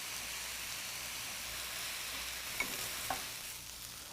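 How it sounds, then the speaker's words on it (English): Peas, carrots, garlic and soy sauce stir frying in a pan, a steady broad sizzle throughout with a couple of faint scraping stirs toward the end, no voices. "we'll stir fry that until it's cooked through"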